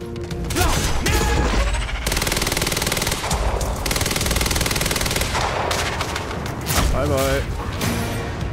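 Heavy automatic gunfire in the video game Quantum Break rattles almost continuously at close range, mixed with impacts and crashes, while voices shout over the shooting.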